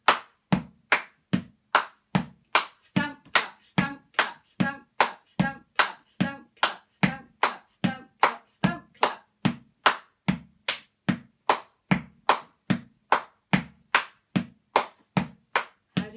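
Steady hand claps and stamping feet keep a regular beat throughout a children's rhythm session, each sharp clap evenly spaced and close, with the clapping pattern occasionally shifting while the pulse holds.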